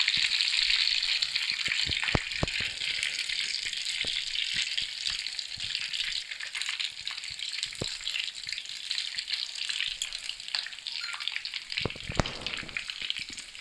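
Beef-stuffed potato kababs fry in a pan, a steady dense sizzle and crackle running throughout with scattered sharp pops and spits, loud and close with no talking.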